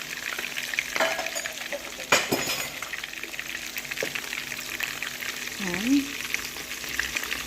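Chicken pieces frying in hot oil in a pan for sweet and sour chicken, a constant close crackling sizzle with a few stirring clacks, and a voice briefly speaking near the end.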